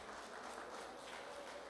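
A church congregation applauding, soft continuous clapping heard from a distance, faint and steady throughout.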